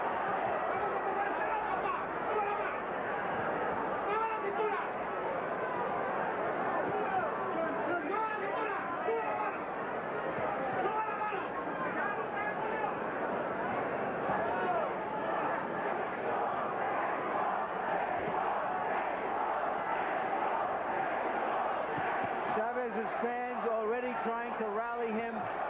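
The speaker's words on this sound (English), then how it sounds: "But the crowd is more subdued at this moment than we might have expected." Boxing arena crowd at the 1996 Chavez vs De La Hoya fight, a steady, dense murmur of many voices with scattered calls throughout, filling the space continuously without loud cheering peaks.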